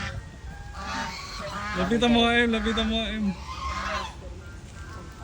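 Turkey calling nearby, a run of loud gobbling, honking calls in a burst with a person talking over and around it.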